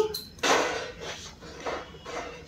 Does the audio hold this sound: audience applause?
no